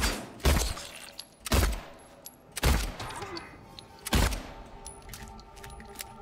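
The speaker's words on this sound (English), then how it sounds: "I'm gonna shoot this guy." Gunfire in the video game Silent Hill 2 Remake: four loud, separate shots spaced about a second apart, each with a sharp crack and short decay, over a quiet ambient backdrop.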